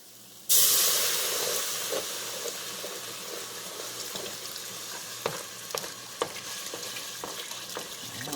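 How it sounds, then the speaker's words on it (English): Milk poured into a hot, scorched pan for candy bursts into a loud hiss and sizzle, then settles into steady close bubbling with occasional clicks of a spoon stirring. "Now we're going to stir in our milk."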